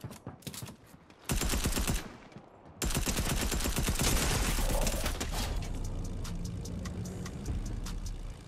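Rapid SMG gunfire in a Fortnite duos match, with dense bursts of automatic shots interrupted by short pauses, loud and close, followed by a steady vehicle engine drone.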